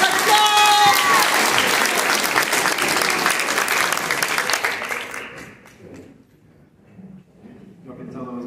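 An audience applauding at a university talent show, dense sustained clapping with a cheer near the start, fading out after about five seconds into quiet room noise and a few stray claps.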